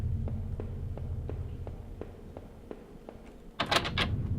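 Rhythmic knocks or rattles of a locked basement door being tried in a horror video game, a regular series of dull thuds followed by a louder burst of noise at the end.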